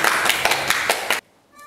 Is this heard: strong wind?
no